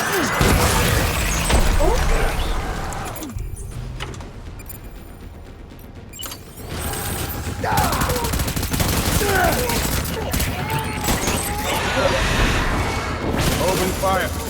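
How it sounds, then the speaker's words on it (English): Heavy gunfire in the video game Death Stranding, with dense, continuous bursts of automatic shots and booms that ease off briefly midway and then resume loud and close, with some game voices mixed in. "Enemy fire."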